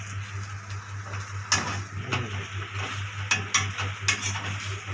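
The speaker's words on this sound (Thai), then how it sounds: "ผัดไส้กรอก10นาทีแล้วนะคะ" Sausages stir-fry in a pan with a continuous sizzle, broken by repeated scraping and clinking strokes of a utensil against the pan over a steady low hum.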